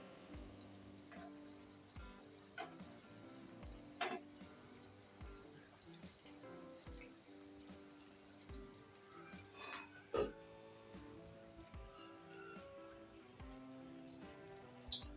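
Jalebi frying gently in oil on a low flame gives a faint, steady bubbling crackle with scattered soft pops and a few louder clicks, with no voices.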